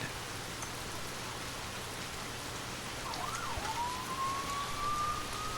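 A siren wail rises out of steady rain-like hiss halfway through and holds a long, sustained tone, growing slightly louder as it continues.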